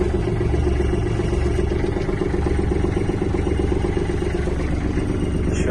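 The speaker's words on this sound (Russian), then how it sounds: "Запустим трактор." A Kubota GL300 Japanese mini tractor with a cab and a 30 hp engine running after start-up, with a steady, loud, close diesel rumble and a rhythmic mechanical clatter that continues throughout.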